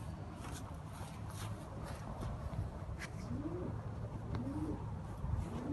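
Racing homing pigeons coo inside a breeding loft in Toronto. Several soft, low coos, close but faint, repeat in the second half over a quiet background hum.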